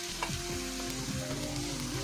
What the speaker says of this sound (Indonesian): Oseng lagi sebentar sampai tomatnya itu layu aja ya.